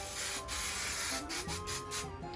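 Hairspray spritzed onto a cosplay wig while it is styled upright, a steady hissing spray broken by several short pauses, close and continuous, with no talking.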